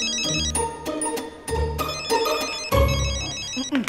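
A mobile phone ringtone plays a repeating melodic tune, loud and close, running steadily with no talk over it.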